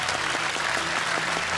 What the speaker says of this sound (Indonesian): Ini dia Mas Roni Bodaks, boleh tepuk tangan untuknya.